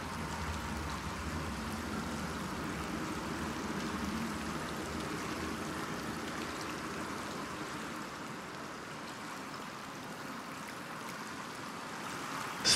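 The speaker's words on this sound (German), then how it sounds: "Wasser, alles überflutet." Flowing water fills a flooded room in the video game Pathfinder: Wrath of the Righteous, a steady rushing wash that continues evenly throughout, with no speech over it.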